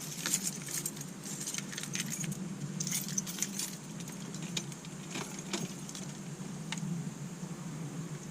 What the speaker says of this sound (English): keys are here